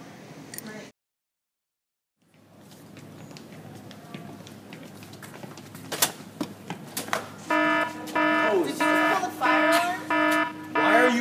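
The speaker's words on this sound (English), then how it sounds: "Pulling the fire alarm." A pulled school fire alarm sounds in a classroom, starting as scattered clicks and knocks and then blaring in loud repeated pulsing buzz-horn blasts over the last few seconds, with voices in the background.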